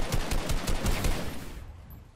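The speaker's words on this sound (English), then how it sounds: "This is the grenade explosion." A grenade explodes in Fortnite Creative (UEFN) with a burst of rapid, crackling booms that rumble for about a second, then fade quickly into quiet.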